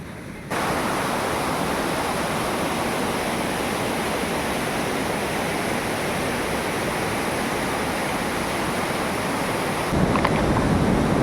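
A forest waterfall roars as a dense, steady wash of falling water, loud and close, continuous throughout with no voices.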